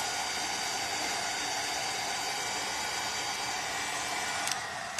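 A handheld heat tool blows hot air over crafted paint, a steady close hissing whoosh of air that holds constant throughout.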